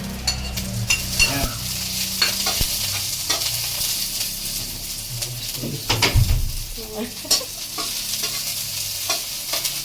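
Garlic fried rice with oil and chili frying in a pan, a close sizzle broken by spatula scrapes and stirring clatter against the pan, with people talking intermittently over it.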